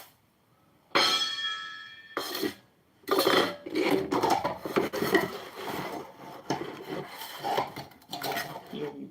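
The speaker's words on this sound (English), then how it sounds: "So I'm going to toss them in and grind them together." Pepper and crayfish ground together by hand, a loud close rasping grind in bursts, starting after a moment of silence and continuing steadily with short pauses.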